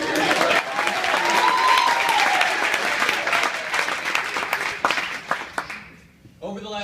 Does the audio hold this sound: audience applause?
yes